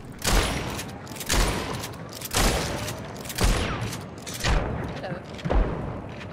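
Shotgun blasts in a video game boom out loud and close, about one per second in a steady rhythm, each heavy report trailing off before the next.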